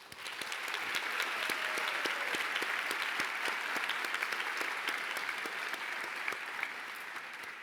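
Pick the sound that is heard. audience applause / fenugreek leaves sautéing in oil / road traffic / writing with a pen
audience applause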